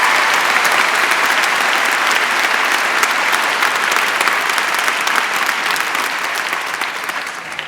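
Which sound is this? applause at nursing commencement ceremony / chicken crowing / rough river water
applause at nursing commencement ceremony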